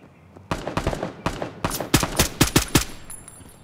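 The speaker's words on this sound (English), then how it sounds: "I'm getting shot at" Gunfire in a video game styled as an Escape from Tarkov knockoff: irregular bursts of sharp shots, single cracks at first, then a faster string of rounds, loud and close.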